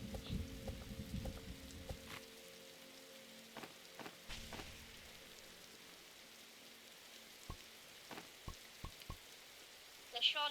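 Rain in the 99 Nights in the Forest video game patters steadily as a soft, even hiss, with scattered sharper drop-like ticks and a low rumble early on; no talk over it.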